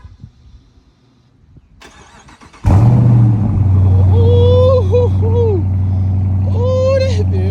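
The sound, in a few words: 2023 Dodge Charger R/T engine starting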